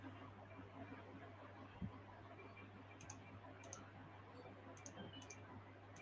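A computer mouse clicking, with a few faint, crisp clicks scattered irregularly over a low steady hum, some in quick pairs.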